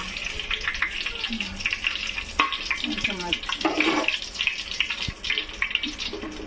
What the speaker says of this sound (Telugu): ఆయిల్ అయితే హీట్ అయింది ఫ్రెండ్స్. ఇప్పుడు ఫస్ట్ అయితే వెల్లిపాయలు వేసుకుంటున్నాను